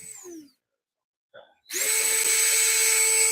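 After a short pause and a faint clunk, a power drill drilling a hole for tapping spins up with a loud, steady whine that holds until the end.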